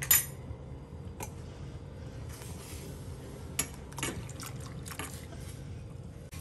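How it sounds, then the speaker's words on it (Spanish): Milk mixed with cornstarch trickles into a pot on the stove, a soft steady liquid pour with faint clinks from utensils, close and fairly quiet. "en este momento le voy a agregar lo que habíamos reservado de la leche con la maicena"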